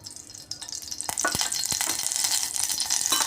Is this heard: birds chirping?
no